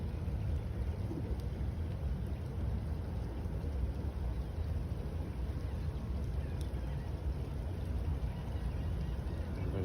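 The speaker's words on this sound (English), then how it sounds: "we bring you a little rain shower" Steady, soft broadband hiss of a light rain shower falling at a Florida beach, continuous and even throughout with no other distinct sounds.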